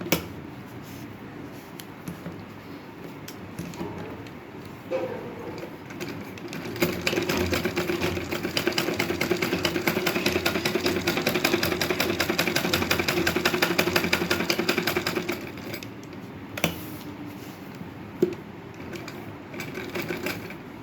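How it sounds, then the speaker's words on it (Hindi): A sewing machine stitches the sides of a handmade indoor slipper, starting with a few short bursts, then running in a long steady rapid chatter before slowing to scattered stitches and clicks. "अब मैं यहाँ पे सिलाई लगा दूँगी इसके साइड सारे"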